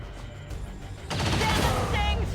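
Rapid bursts of gunfire in the XCOM video game, with a quieter stretch before a dense, sustained volley erupts about midway and keeps crackling loudly to the end.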